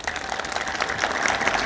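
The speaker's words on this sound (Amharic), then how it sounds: "አጨብጭቡልኝ።" A church congregation claps on request at a sermon, a brief, fairly faint spatter of many hands applauding at a moderate distance, steady for under two seconds.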